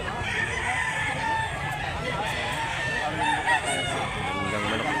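A rooster crows among clucking chickens at a Cebu poultry sale, with a busy, continuous background of people talking and birds calling throughout.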